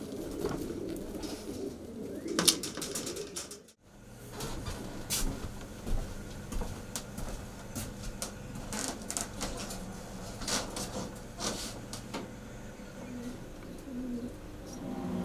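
Racing pigeons coo steadily inside a widowhood loft, soft repeated calls layered with wingbeats and shuffling, with a brief dropout near the start and no talking.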